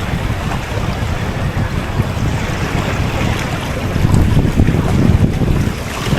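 Steady, loud wind buffets the microphone at a seaside fishing spot, with a low roar of surf or water underneath and a gust that swells stronger toward the end.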